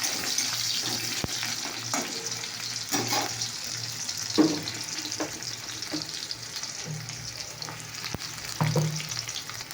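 Bay leaf and whole spices sizzle in hot oil in a pan after fried potatoes are lifted out, with a continuous crackling hiss broken by sharper stirring scrapes and clinks throughout.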